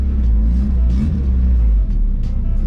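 Turbocharged Honda Civic EK engine idling at operating temperature, a loud close steady low rumble heard from inside the car, with faint talk under it.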